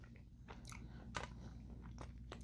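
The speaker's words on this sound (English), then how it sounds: "The gummies are just gonna be chewy." Close, quiet chewing of soft gummy candies, with repeated wet squishes and small crunching bites spread across a few seconds.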